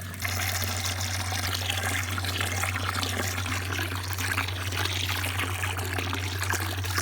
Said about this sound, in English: And then tipped into the feed tank.